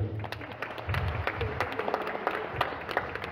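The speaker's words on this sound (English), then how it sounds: "Give yourselves a round of applause." An audience at a country music show applauds steadily, the clapping dense and moderately loud, with a few sharper claps standing out and no talking over it.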